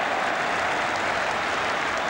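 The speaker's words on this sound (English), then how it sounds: "Applause for Miller for the back pass." A football crowd at a Scotland versus Northern Ireland match applauds a back pass, producing a loud, continuous wash of stadium clapping and crowd noise throughout.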